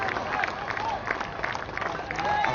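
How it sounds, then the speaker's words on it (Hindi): A stadium crowd applauds a batsman's century at a Vijay Hazare Trophy quarter-final between Vadodara and Karnataka, producing a steady wash of clapping and crowd noise throughout. "ये शतक का भरपूर तालियों के साथ अभिवादन किया"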